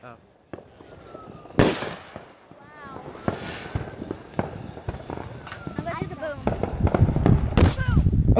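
Fireworks go off outdoors on the 4th of July: several sharp pops and bangs at irregular gaps over crackling and rustling, with voices and movement nearby.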